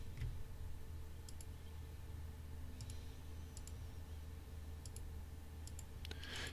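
Quiet computer mouse clicks while working in T-Rex grid-generation software, arriving as sparse pairs of light ticks over a steady low hum.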